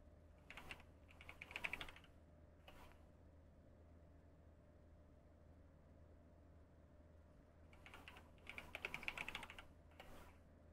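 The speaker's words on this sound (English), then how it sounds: "we're just gonna type it in" Computer keyboard typing in two bursts, early and near the end, with a lone keystroke cluster between them over a steady low hum during Car Mechanic Simulator play; fairly close and clear with no talk.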